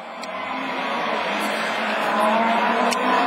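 Rallycross race car engines, division 4, including a 207, roar steadily at close range, rising slightly in loudness, with faint tire noise; no talking.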